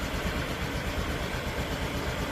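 A Honda Activa 6G scooter idles just after a self start, its small engine putting out an even, continuous mechanical hum close by with no voices over it.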